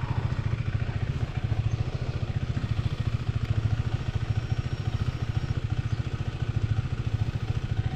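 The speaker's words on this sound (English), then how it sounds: "With bro and dad's Harley Sportster S. 1250." Harley-Davidson Sportster S 1250 motorcycle riding with a steady, loud engine throb and rapid firing pulses that stay even throughout, close to the machine.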